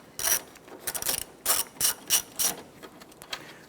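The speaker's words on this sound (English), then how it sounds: "Using your 7mm socket, I'll go ahead and loosen and remove this bolt." A 7mm socket on a ratchet loosens a bolt on a 2006-2013 Chevrolet Impala, a close series of crisp ratcheting clicks in short bursts with brief pauses between strokes.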